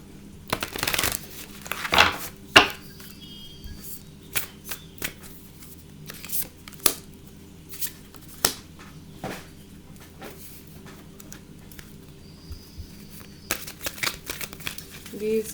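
Tarot or oracle cards being shuffled indoors, a glossy, shiny deck riffling in a quick run of crisp flicks at first, then irregular soft taps and card slides spread across the stretch, close and fairly quiet.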